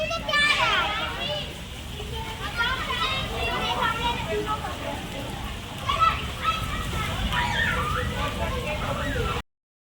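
Children shriek and shout while playing in rainwater during a heavy downpour, a continuous lively crowd of young voices with steady rain hiss beneath, close by, then a sudden cutoff.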